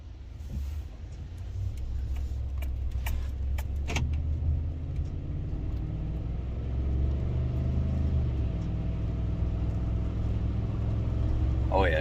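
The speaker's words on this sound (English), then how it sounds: "Idling beautifully. As soon as you touch the throttle, just very, very nice throttle response." A 2013 Ford F-150 with the 5.0L V8 idles with a steady low rumble, then rises in pitch as the throttle is blipped. Someone talks over the engine and keys jingle near the start.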